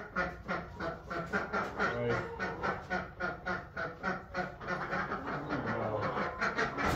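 Rapid, repeated duck quacks in a steady rhythm, close by at a barn in the rain, continuing throughout.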